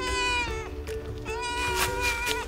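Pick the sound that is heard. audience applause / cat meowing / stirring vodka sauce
cat meowing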